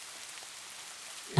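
Rain falls outside, a soft, even hiss of drops spread across the whole moment, fairly faint and steady, ending in a sudden louder thump.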